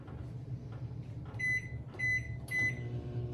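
A microwave oven hums quietly and steadily, then gives three short beeps near the end, with no talking.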